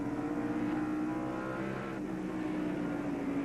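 NASCAR Winston Cup stock cars race at North Wilkesboro in the 1996 Tyson Holly Farms 400, their engines a steady, dense, moderately distant roar that drones without pause, with no voices heard.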